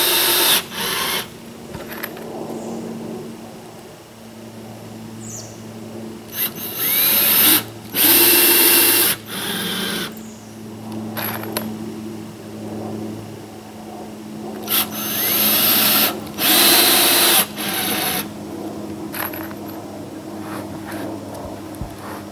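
A power drill drives screws through a floor board into the joists of a tiny house floor, in several separate loud bursts of whirring with quiet pauses between them, close by.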